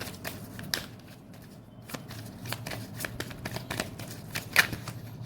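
Tarot cards shuffled and drawn by hand during a reading: a steady, soft riffling with crisp snaps and flicks, close and fairly quiet, with no talking over it.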